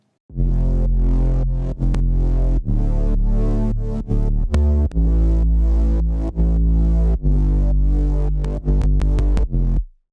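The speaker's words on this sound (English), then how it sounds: "This is how the basses sound on their own." Deep synth bass notes play alone in a steady repeating pattern, each sustained tone cut by brief gaps, with clicks at some note changes.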